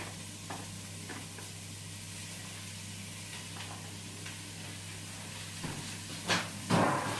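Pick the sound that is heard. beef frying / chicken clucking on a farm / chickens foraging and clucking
beef frying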